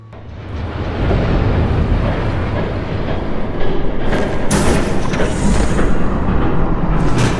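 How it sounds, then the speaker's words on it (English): A train rumbles in as a loud, continuous roar that builds from a quiet start and swells with harsh rattling bursts toward the end, close and dominant. "There's a train coming."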